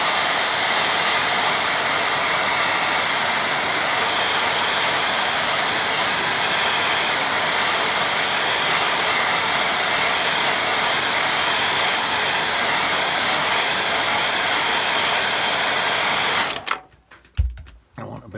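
A hair dryer blows steadily and loudly on a wet watercolour lake-and-waterfall painting, a continuous whooshing roar that runs nearly the whole time before cutting off abruptly near the end.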